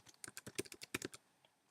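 Quick keystrokes on a computer keyboard type CSS code in a rapid run of about a dozen crisp, close clicks that stop abruptly, followed by one faint tap and quiet.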